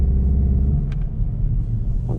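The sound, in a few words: Volkswagen GTI engine revving while spinning around in parking lot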